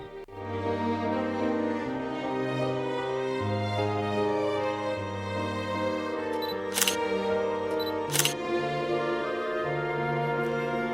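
A camera shutter fires twice during a photo session in a park, two crisp clicks about a second and a half apart, over a steady background of music.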